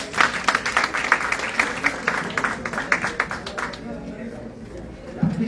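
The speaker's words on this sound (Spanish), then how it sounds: "Un fuerte aplauso para él, por favor." Applause from a forum audience for a panel moderator at a tourism event on air connectivity, a dense clatter of clapping through the first few seconds that thins and fades toward the end, with faint crowd murmur beneath.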